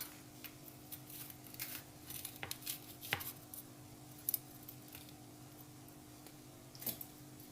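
A knife slices green chili into small pieces on a board, giving sparse, faint, close clicks and taps at irregular intervals over a low steady hum.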